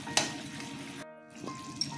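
Fish pieces sizzle in a pan of curry as they are turned, with a steady frying hiss, a sharp utensil tap near the start, a brief lull, then the sizzle returning.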